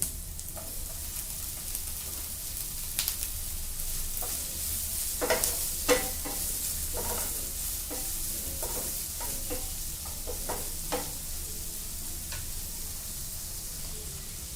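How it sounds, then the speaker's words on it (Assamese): Onions and tomatoes fry in a pan for a tomato paneer fry, a soft, steady sizzle broken by repeated stirring scrapes and taps of a spoon, with no voices. "পিঁয়াজখিনি অকণমান ফ্ৰাই হোৱাৰ পিছতে ইয়াত বিলাহীখিনি দি দিম"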